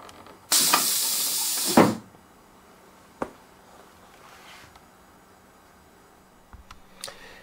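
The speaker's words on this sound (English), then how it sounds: "wheels coming down." Pneumatic landing gear on a Skymaster F-16 model extends with a loud close air hiss lasting over a second, ending in a clunk, followed by a few faint scattered clicks in quiet surroundings.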